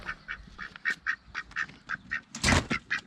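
A duck quacks repeatedly in a steady rhythm, close by, with one louder, harsher burst near the end.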